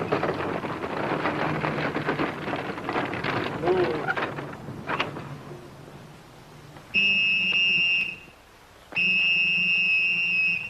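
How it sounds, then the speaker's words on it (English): Two long, steady shrill whistle blasts, each about a second long, sound loud and close with a short pause between them. They follow a stretch of dense rain-like noise and background voices in an old Western film scene. "Oh, man, stop blowing that whistle."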